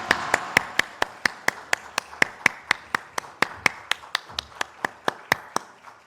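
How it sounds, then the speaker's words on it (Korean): A church congregation at a Sunday worship service claps in tight unison, about two dozen crisp, evenly spaced claps in a steady rhythm, moderately loud in a reverberant room. "하나님께 영광의 박수 올려드리겠습니다."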